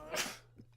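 A single sharp human sneeze bursts out close and loud, then fades into a faint breathy tail and low room hum.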